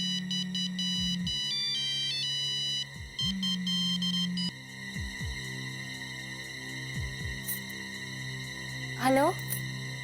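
A phone ringtone plays for about ten seconds as a repeating electronic melody with gliding tones, steady and prominent, with a few rising chirps near the end.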